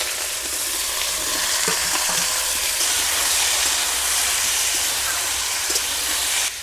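Potatoes and cauliflower fry in hot oil with cumin seeds, giving a loud, close, continuous sizzle with a few light clatters of stirring.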